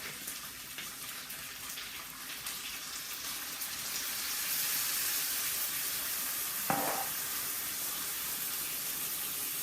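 Half a cup of milk goes into a hot pot in a leftover ham recipe, producing a steady hissing sizzle and pouring wash that grows slightly louder, with a brief clink partway through.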